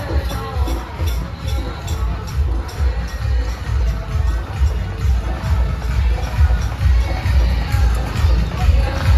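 A large Navratri fair crowd in a market ground makes a loud, continuous rumble of many voices and footsteps, with the low murmur pulsing unevenly throughout.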